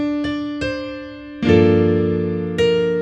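A few soft piano notes are struck, then a full chord with doubled chord tones lands and rings, followed by another chord near the end, played alone without talking.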